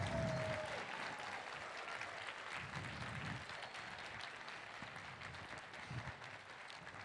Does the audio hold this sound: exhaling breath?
no